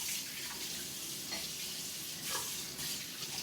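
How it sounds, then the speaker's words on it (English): A filter from a Starbucks Barista espresso machine is rinsed under a sink tap, a steady close splashing rush of running water with small shifts as it is turned and washed, with no voices. "Maybe I'll take it to the sink,"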